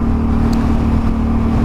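A Suzuki V-Strom 650 motorcycle fitted with a Delkevic half exhaust system runs loudly and close, a steady, rumbling engine drone with a constant low hum throughout.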